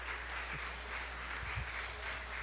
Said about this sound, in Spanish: y todos aplaudan como Nelson.